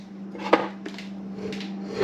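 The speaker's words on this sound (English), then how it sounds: "Take our newly made sauce, throw it on the stove." A pot of freshly made pizza sauce is set onto a stove with one sharp metallic clank, followed by a few softer knocks over a steady low hum.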